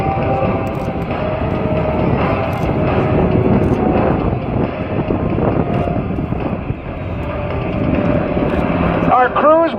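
A military combat search and rescue aircraft lands at an air show at Davis-Monthan, its loud, steady engine roar filling the whole clip under an announcer talking over the public address, with wind buffeting the microphone.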